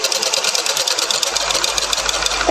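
Sewing machine running steadily as it stitches along the curved round neckline of a blouse, a continuous close whir with rapid needle rhythm and no talk.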